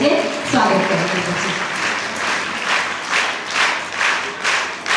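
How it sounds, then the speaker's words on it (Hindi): Audience at a school investiture ceremony welcomes arriving guests with loud, sustained applause, a dense hall of clapping that follows a brief spoken announcement and swells in waves. "एक बार उनका भी जोरदार तालियों से स्वागत करेंगे।"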